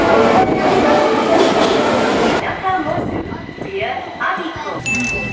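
An Osaka subway train running, a dense rumbling roar that drops to a quieter rattle with clicks and a brief high tone near the end, heard from inside the carriage.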